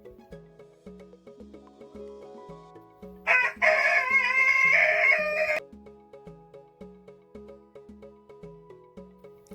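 A hen lets out one sustained, rising-and-falling cackling call of about two seconds, loud and close, over a steady, bouncy children's backing melody that plays throughout.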